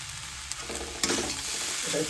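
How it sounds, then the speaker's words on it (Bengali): Rice stir-fried with sugar and spices in a pan sizzles steadily up close, with scraping stir strokes breaking through the frying hiss. "ভালো করে চিনিটা গলা পর্যন্ত আর ভাতগুলো ফ্রাই হওয়া পর্যন্ত এটাকে নাড়াতে হবে।"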